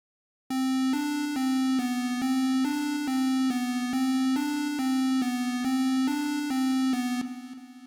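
A thick, layered 8-bit synth riff for a trap beat, two copies of the same buzzy square tone stacked an octave apart, pulsing in steady even notes for several seconds before fading out.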